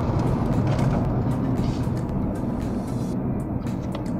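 A remapped BMW 530i G30 accelerates hard along an empty road, its engine a steady, loud roar with broadband rumble and rushing noise throughout, sounding close and continuous without any talk.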